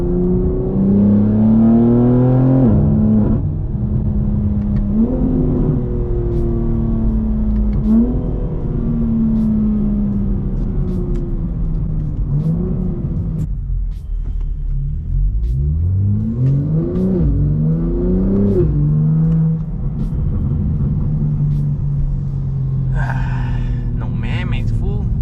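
A car with an S58 engine drives on a freeway in traffic, its close, loud engine droning and revving up and down through several pulls, with a voice now and then.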